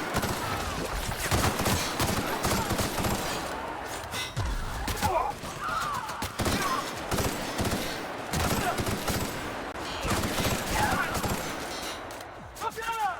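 An enemy shooting in a video game: dense, nearly continuous rapid gunfire with sharp cracks throughout, loud and close, mixed with other game action and occasional voice sounds.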